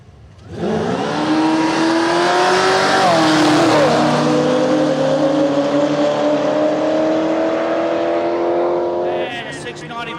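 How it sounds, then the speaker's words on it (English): A supercharged drag car engine roars loud and near for about nine seconds, rising in pitch as it revs, then cuts off sharply. "Don't you just love a blown car?"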